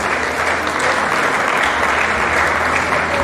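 Hearty applause fills the hall as a memorial lecture audience claps loudly and continuously. The sound is a thick, even roar of many hands at once, with no talking over it.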